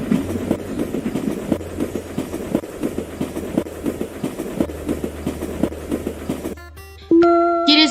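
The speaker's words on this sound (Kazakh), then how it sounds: "Яғни біздің жолаушымыз поездға отырды." A train runs in a video game, its wheels clattering in a steady repeating rhythm with a low engine drone, then cutting off near the end as a bright synthetic game tone sounds.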